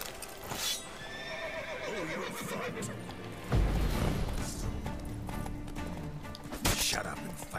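A horse whinnies in The Witcher 3: Wild Hunt during a combat scene, loud drawn-out neighs alongside hoof clip-clops and fight noise, with a voice talking over the game.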